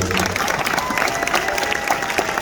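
Audience applause at a comedy and mentalist show for a singles conference crowd, dense continuous clapping with some crowd noise, steady and moderately loud through the brief stretch.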